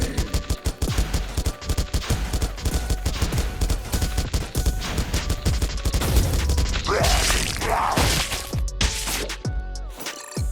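Gunfire from Devil War, a first-person sci-fi shooting game: dense, rapid automatic shots hammering loudly almost nonstop, with mechanical clatter and a brief burst of other effects near the end.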